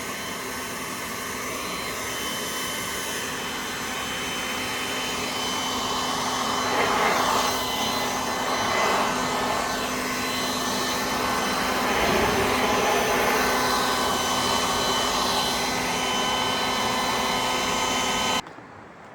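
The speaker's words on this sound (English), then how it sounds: "I've just got the leaf blower and blow them out" A leaf blower roars steadily, close and loud, clearing leaves off the top of a grain dryer bay, its pitch surging and easing as the angle changes before it abruptly cuts off near the end.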